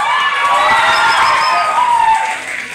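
Crowd cheering and applauding for a contestant at an 18th birthday party in M'lang, Cotabato, a loud, steady wash of shouts and claps held throughout, with a few children's voices in the mix.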